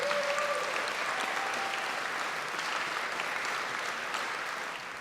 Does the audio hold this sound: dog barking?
no